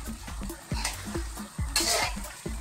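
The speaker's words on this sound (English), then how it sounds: "let's throw this around, making sure that our sauce covers all of the pasta" Pasta being tossed in sauce in a hot pan with the heat still on, giving a steady sizzle broken by rhythmic scraping stirs and soft clanks of the pan, close and fairly quiet.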